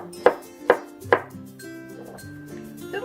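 A knife chops zucchini on a cutting board: three sharp, close thwacks spaced evenly about half a second apart, then quieter clicks and soft kitchen clatter with a faint tonal hum underneath.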